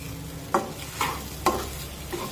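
Cooked masala stirred in its released oil in a pan for a drumstick pod curry, a soft continuous sizzle broken by four distinct scraping strokes of the spoon, close and moderately loud, without talk.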